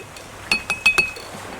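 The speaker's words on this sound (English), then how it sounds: "Give this one a bit of a stir." A seawater sample being stirred in a glass: a quick series of four or five bright, close clinks of a utensil against the glass, with a quiet pause before and after.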